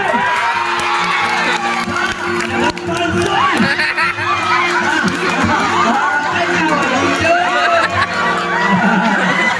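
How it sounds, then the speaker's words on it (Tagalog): A lively crowd at an 18th birthday party cheering, whooping and chattering loudly together, with children shouting, a dense and continuous roar of voices close by. "Isang kalakpak at sigawan naman dyan!"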